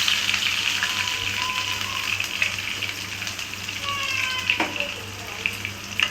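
Chopped small onions (shallots) sizzle and crackle steadily in hot oil in a pan, a continuous close frying hiss with occasional stirring, for a goat liver gravy.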